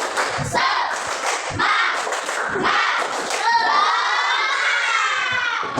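A Grade 5 class doing a rhythmic spirit clap (tepuk semangat), with sharp claps and thumps mixed with children shouting and chanting together, followed by a rising group cheer.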